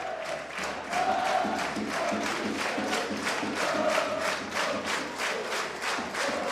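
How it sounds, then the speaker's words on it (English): Rugby league fans at a North Wales Crusaders versus Toulouse Olympique Challenge Cup match cheer and chant, a rhythmic, pulsing crowd roar with rising shouts, heard from a distance and sustained throughout. "Well, the fans on the feet, very vociferous crowd"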